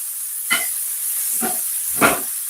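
Vegetables sauté in a pan for Jamaican steamed callaloo, a steady hiss with three brief, sharper bursts of sizzling as they are moved, close and moderately loud.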